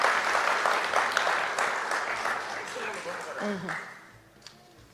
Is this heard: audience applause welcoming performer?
yes